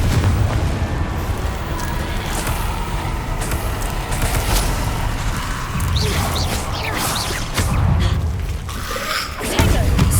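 In Hogwarts Legacy, the Confringo fire spell blasts amid a dense, loud roar of booming explosions and rumble that keeps going throughout, with other combat noise layered in.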